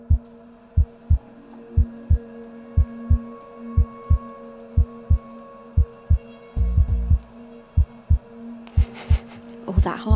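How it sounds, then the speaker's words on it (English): Heartbeat sound effect in a live poker broadcast from The Cube: steady, deep thumps repeating about every three-quarters of a second throughout, over a faint low hum, with a brief burst of other noise near the end. "that heartbeat makes me nervous"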